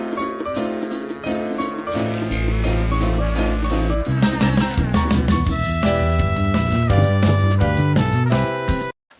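Electronic music track, layered synths over a heavy bass that drops in after a couple of seconds, dense and loud throughout before cutting off abruptly at the end.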